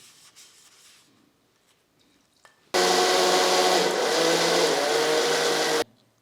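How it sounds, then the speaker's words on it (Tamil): A mixer grinder jar whirs loudly for about three seconds as it grinds peanut chutney of peanuts, salt and a little water, starting abruptly after quiet handling sounds and stopping sharply. "ஆறின பின்னாடி மிக்ஸி ஜாரில் போட்டு அரைச்சிக்குவோம்."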